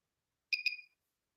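Two quick electronic beeps from a microcurrent facial device in close succession, high-pitched and clean, with a brief ringing tail, then silence.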